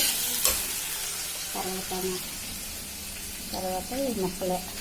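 Lentils, onions, curry leaves and green chillies fry in hot oil with a constant close sizzle and stirring, while a voice speaks briefly over it.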